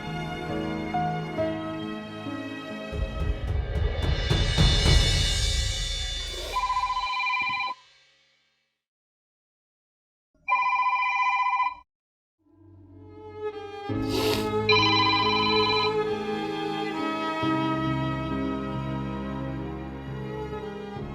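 A telephone rings while an outgoing call is placed, set within a TV drama scene. A tonal ringing pattern repeats in bursts separated by short silent gaps, and nobody speaks.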